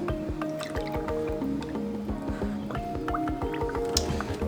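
Premix long life coolant glugs and drips into a car's cooling system through a narrow hose, with irregular wet squishy bubbling and gurgles that continue close up, without talk.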